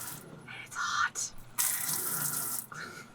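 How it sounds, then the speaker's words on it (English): Hot water splashes from a sailboat galley sink tap in short bursts, with on-and-off gushing that sounds close and fairly quiet. "Also now have hot water out of the sink"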